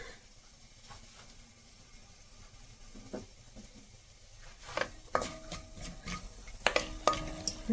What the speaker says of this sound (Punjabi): ਜੀਰਾ ਆਪਣਾ ਭੁੱਜ ਗਿਆ